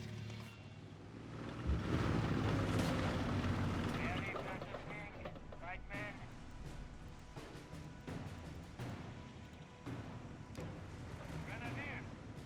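Artillery barrage in the strategy video game Company of Heroes 3: heavy, rumbling booms and blasts dominate the first seconds, followed by scattered impacts and battlefield noise, with a voice talking over the top.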